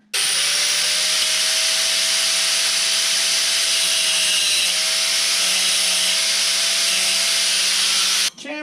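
A power grinder grinds steadily on a part during an LT-1 engine rebuild, a loud continuous close-up whine with a slight pitch dip midway, starting and stopping sharply with no speech.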